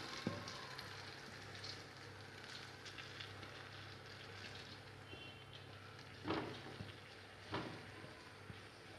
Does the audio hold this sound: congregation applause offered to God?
no